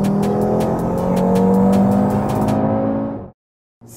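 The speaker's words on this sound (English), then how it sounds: "rapid acceleration is accompanied by a violent exhaust note and stupidly quick gear shifts" An Audi TT RS (2018) accelerates hard, its loud, violent exhaust note swelling near and steady for about three seconds before cutting off abruptly into silence.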